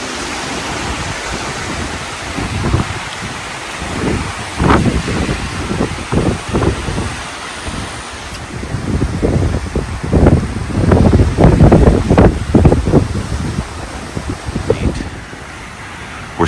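Tropical-storm-force winds of Hurricane Milton in North Port, Florida, roar and gust hard against the microphone, a loud, continuous rush with swelling bursts and no voices.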